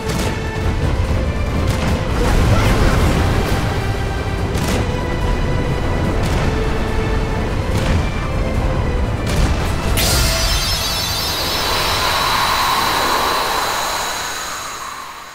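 Deep cannon booms from a pirate-ship battle in Kingdom Hearts 3, set in the Caribbean, land every second or two over a dense, steady rumble of game sound and music, with the final stretch turning brighter and swelling.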